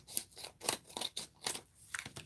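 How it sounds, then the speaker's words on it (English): Scissors cutting through a folded gold bag, about six quiet snipping strokes in an uneven rhythm, close up with no talk. "I'm going to cut it off."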